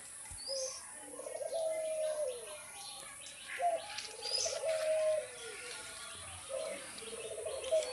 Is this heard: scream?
no